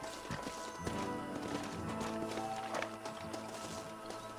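Horses with riders dismounting in the Red Dead Redemption video game, hooves clip-clopping steadily over a dense layer of game ambience, with a brief whinny or neigh.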